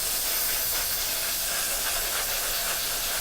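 Airbrush spraying metallizer paint onto a 1/48 Airfix Hurricane model kit, a steady close airy hiss held evenly throughout without breaks.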